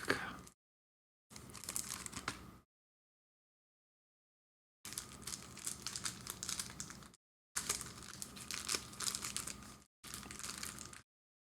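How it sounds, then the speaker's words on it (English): Plastic shrink wrap crinkling and tearing as it comes off a shiny vinyl record, in several separate bursts of close, crackly rustling with short silent gaps between. "I'll take it out of the plastic."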